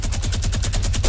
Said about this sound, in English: I'm being shot from behind